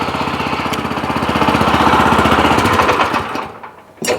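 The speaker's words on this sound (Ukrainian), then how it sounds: "Мотор слушно працює." A walk-behind tractor (motoblock) engine runs steadily and close by with a loud, rapid chugging pulse, then slows and fades near the end.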